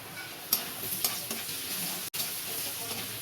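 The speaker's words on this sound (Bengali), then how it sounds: "পেঁয়াজটা একটু ভাজা ভাজা মতো হয়ে গেছে, এবার আমি একটা উচ্ছে দিয়ে দেবো।" Onion and bitter gourd frying in a pan with salt and turmeric, a soft continuous sizzle with a few stirring scrapes, close and fairly quiet.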